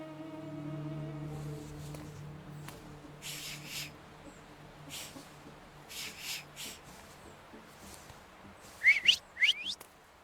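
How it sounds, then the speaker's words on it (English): Whistling in The Thaumaturge, a few short rising whistled notes near the end after quiet game ambience with faint tonal music and soft noises. "So, have you mastered whistling?"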